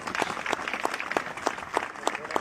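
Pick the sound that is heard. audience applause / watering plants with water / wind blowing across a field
audience applause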